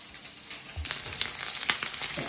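Seasoned food dropped into a hot frying pan with salt, pepper and traditional spices bursts into a sudden, close, crackling sizzle that keeps going steadily, with no talking.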